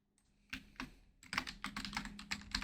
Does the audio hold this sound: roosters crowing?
no